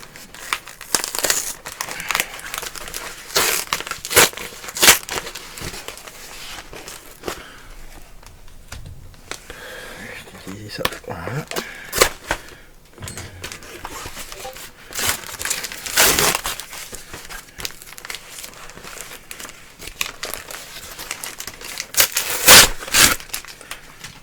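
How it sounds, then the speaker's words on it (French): A PS3 game being unboxed, its plastic wrapping crinkled and crushed in close, loud bursts of crackling and tearing that come and go in uneven waves, with no voice. "nous allons passer au déballage du dernier jeu que j'ai commandé"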